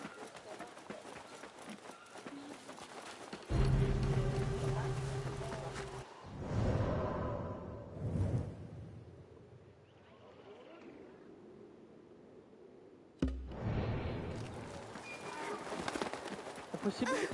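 Horse hooves in the video game Assassin's Creed Mirage, loud rhythmic galloping thuds at mid-distance in two bursts separated by a quieter stretch, with in-game voices and talk around them.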